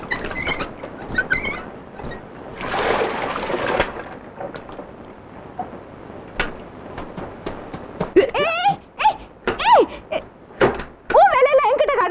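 A door is pushed shut with a rough, rumbling scrape and thud early on. Scattered knocks follow, and then people talk loudly nearby.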